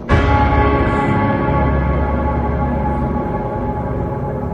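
A single deep, heavy bell strikes loudly and rings on with a long sustained hum that slowly fades, a tolling sound from the 2022 Hellraiser film, alone with no voices.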